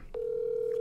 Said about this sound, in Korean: 자, 전화 한번 연결해 봅니다